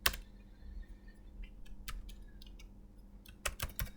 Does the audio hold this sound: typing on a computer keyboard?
yes